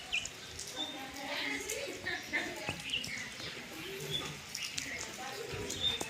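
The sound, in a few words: pigeons cooing at home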